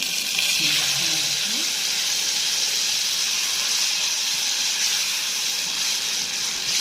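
Tomato sauce poured into a hot pan on a home stove, giving a loud, steady broadband sizzle and hiss that holds evenly throughout, with a brief faint voice early on.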